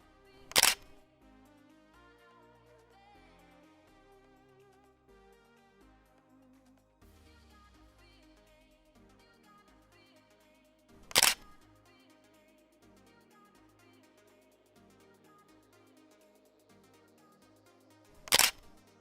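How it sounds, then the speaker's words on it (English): A single-lens reflex camera shutter fires three times, each a sharp loud click spaced several seconds apart, while the zoom lens is twisted for a zoom burst shot, with music playing steadily underneath. "press the shutter and quickly twist your zoom simultaneously as I'm doing"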